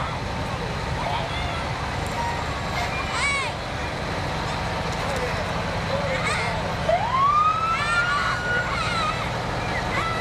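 Fallowfield Volunteer Fire Department engines wail their sirens in a county fair parade, rising and falling sweeps at moderate distance over crowd and traffic noise, with a voice announcing over a loudspeaker.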